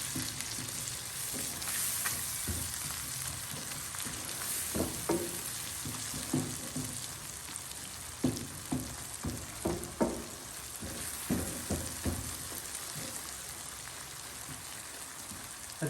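Egg and onion frying together in a pan are stirred, giving a steady soft sizzle with a series of distinct scraping stir strokes, close and clear, with no talking.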